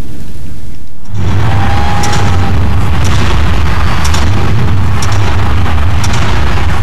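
Fireworks boom and crackle at a New Year celebration, a loud dense barrage that erupts suddenly after a quiet start and keeps rumbling, with sharp pops scattered over the roar.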